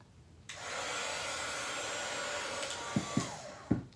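A heat tool blows a steady, loud whooshing stream of air to melt embossing powder on a craft tag, starting abruptly and running continuously, with a few sharp clicks and taps near the end.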